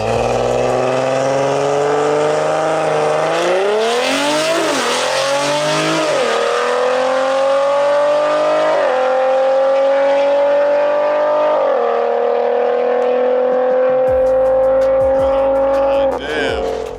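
A big-turbo BMW F30 340i accelerates hard down a drag strip, its engine note rising steadily through several gear shifts, loud and close, with brief dips at each shift and a faint squeal near the end.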